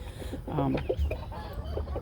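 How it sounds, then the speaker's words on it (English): A house chicken with leg problems clucks in short close calls over a steady background hum, with a soft voice faintly underneath. "my handicapped chicken, my handicapped house chicken"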